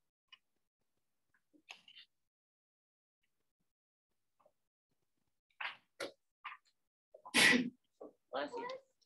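A single sharp sneeze bursts out in a quiet classroom, loud and close, followed by faint voices and small rustles.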